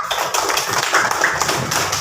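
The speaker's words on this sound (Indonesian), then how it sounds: "tepuk tangan untuk kelompoknya Mbak Kalisa." Brief burst of classroom applause for a student group, quick scattered claps filling a couple of seconds.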